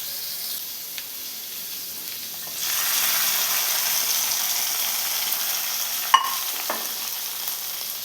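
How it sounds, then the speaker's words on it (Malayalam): Golden-brown fried onions in hot oil poured into a fish curry with coconut milk, setting off a steady close sizzle and hiss that swells after a quiet start, with a brief clink of a utensil partway through. "ഇനി ഇത് നമുക്ക് കറിയിലേക്ക് ഒഴിച്ചു കൊടുക്കാം"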